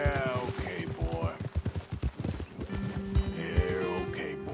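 A horse in Red Dead Redemption 2 trots with rhythmic clip-clop hooves. It gives a whinny near the start and a snort near the end, while a voice talks softly over it.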